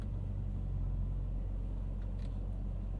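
Low, steady engine rumble from a 2024 Aston Martin DB12 twin-turbo V8 heard from inside the cabin while it is put into drive and creeps out of a parking spot, with a faint soft hum over a constant bass drone.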